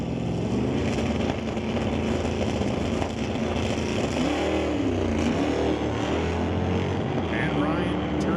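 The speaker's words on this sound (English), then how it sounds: "Ryan driving the 66 Satellite" A 1966 Plymouth Satellite and a 1969 Acadian hot rod drag race at a strip, their engines roaring loudly and continuously under a commentator's talk.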